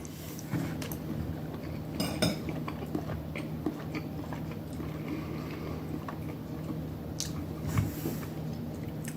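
Someone eats a forkful of kielbasa, rice and beans, with soft, close chewing and squishing and a few light clinks of a fork, all fairly quiet against a faint steady hum.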